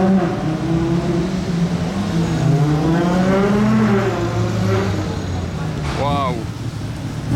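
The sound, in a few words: Ferrari Monza sports car driving past, engine revving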